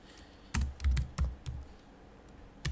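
A command is typed on a computer keyboard in quick, uneven bursts of soft clicks. The keys sound near but quiet, with short pauses between groups of strokes and no talking.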